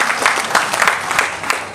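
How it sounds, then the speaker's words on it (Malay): An audience at a health talk claps briefly for the city of Makassar, a short burst of quick, scattered hand claps close by. "Tepuk tangan dulu buat Makassar."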